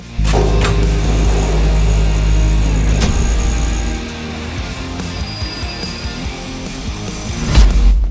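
A MACC TA400A tube-cutting saw with mist lubrication and a 3,000 RPM blade starts with a loud thump, runs with a steady motor whine and cutting grind, eases off midway, and ends with a sharp clunk.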